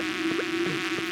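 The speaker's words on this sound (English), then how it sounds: "Means bees are gonna spawn." Insect-like buzzing from bees spawning in a video game drones steadily with a whining tone, several short wavering swells passing through, fairly quiet.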